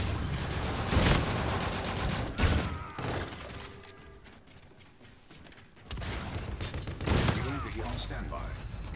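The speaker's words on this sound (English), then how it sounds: "These shotguns are smacking." Shotgun fire in a first-person shooter, several heavy booming blasts with a lull in the middle, close and loud, with mechanical clatter between shots and voices talking alongside.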